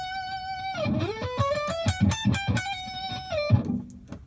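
A distorted electric guitar plays a riff from a Persona 5 boss theme, a sustained note sliding into quick picked notes and a rapid trill, close and moderately loud with no voices.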